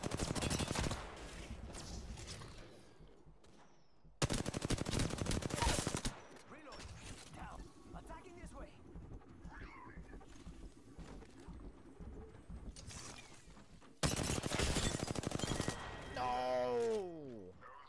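Gunfire in a first-person shooter game comes in several loud bursts of rapid shots separated by quieter stretches of movement and background game noise, with a final burst near the end.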